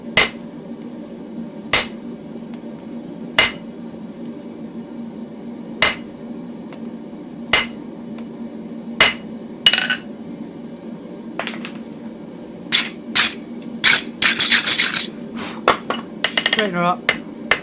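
Hammer strikes ring out on an anvil while forging a barbecue toasting fork with a bottle opener end, about ten evenly spaced sharp clangs, then a faster cluster of metallic taps and a clattering ring near the end, with brief talk.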